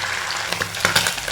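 Sardines fry in hot oil with a dense, steady sizzle broken by a few sharper crackles and pops. The sound is close and continuous, with no talking.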